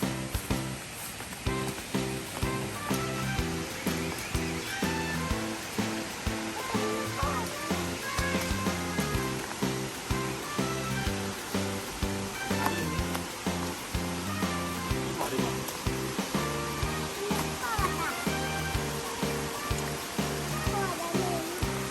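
A forest waterfall rushes steadily and loudly throughout, a continuous broad wash of falling water with voices talking over it.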